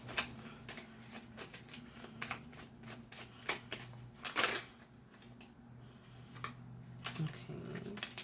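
Tarot cards being shuffled, with a flurry of soft riffling and slapping taps at a close, moderate level, with quiet pauses between bursts.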